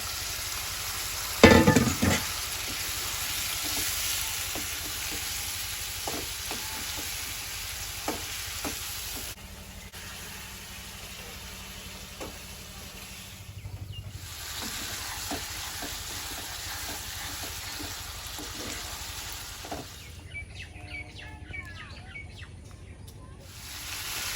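Chicken with sour yogurt frying in a pan for Bengali chicken rezala, a continuous loud sizzle with stirring scrapes and clatters throughout, birds chirping faintly in the background.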